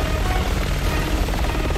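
An attack helicopter in Resident Evil 6 drones overhead, a loud, dense rotor roar filling the whole moment without a break.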